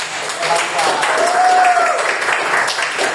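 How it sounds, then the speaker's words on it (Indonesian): A class of students in a microteaching lesson applauds for the male teacher, a steady, moderately loud patter of clapping with voices and a brief whistle-like tone mixed through it. "tepuk tangan buat Pak."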